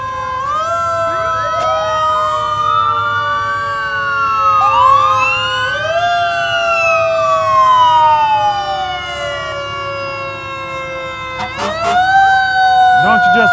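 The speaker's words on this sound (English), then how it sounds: "Don't you just love the sirens?" Several Harrisburg fire engines, including Ladder 1, sound wailing, rising and falling sirens as they roll through a Fourth of July street parade, loud and overlapping, with engine rumble underneath and a few sharp air-horn blasts near the end.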